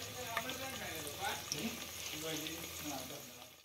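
Ready-made garlic paste hits a hot pan with curry leaves for a Konkan chicken dish, sizzling and crackling steadily under voices talking nearby.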